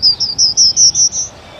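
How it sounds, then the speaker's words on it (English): A prairie warbler's high, thin song of rapid buzzy notes climbing steadily in pitch, each phrase slightly higher than the last, clear and close. "a prairie warbler actually sounds like a little spaceship"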